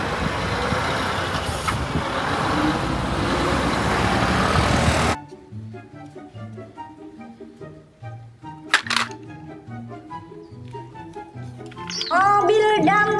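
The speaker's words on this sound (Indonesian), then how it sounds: "Mobil truk kontainer." A container truck rumbles loudly for about five seconds, then gives way to quieter tonal beeps and clicks, ending with a louder burst of mechanical noise.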